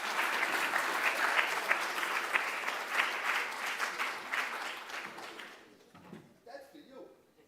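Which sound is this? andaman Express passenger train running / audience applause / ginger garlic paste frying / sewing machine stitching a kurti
audience applause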